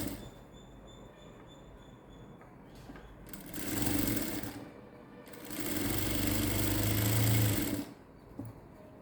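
A sewing machine stitches a cross-cut blouse in two sustained runs of close, steady motor whir and needle clatter, separated by a short pause over a quiet background hum.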